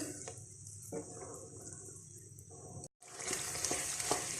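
Makhadi halwa, a dessert made with milk-soaked ingredients, is roasted and stirred in a pan, giving a soft steady sizzle with light stirring scrapes. It breaks off briefly and then resumes louder.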